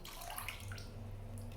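Water in a bucket sloshing and trickling softly as fabric is put in to soak for wet blocking, a steady, fairly quiet wash of water.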